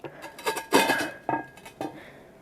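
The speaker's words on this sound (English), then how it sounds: "It's a pan. It's a pan with two handles." A metal two-handled pan clanks and rattles in a kitchen, several close, ringing knocks of cookware being set down and moved, with no talk.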